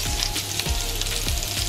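Garlic and onions frying in a pan for embutido fried rice, a dense, continuous close-up sizzle with faint stirring pulses.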